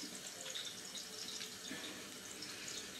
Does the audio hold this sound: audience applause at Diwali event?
no